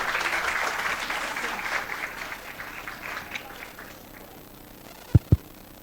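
Applause from a crowd at a shrimp-farming biosecurity seminar, a steady wash of clapping that gradually thins out, followed by two sharp thumps near the end.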